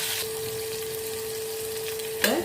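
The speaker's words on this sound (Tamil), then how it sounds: "அரைச்சி வச்சுருக்க கத்திரிக்காய் நல்லா வதங்கணும்." Brinjal sautéing in a pan for a Tamil gravy, a steady soft sizzle with a faint stirring scrape near the end.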